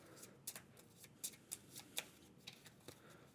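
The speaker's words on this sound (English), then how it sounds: "Let's shuffle up these worry cards a little." A deck of worry cards from the A Nice Cuppa board game is shuffled up close, giving a quick run of crisp riffling snaps and soft clicks against a quiet background.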